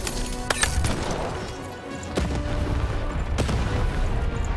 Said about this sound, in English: The button to fire the cannon.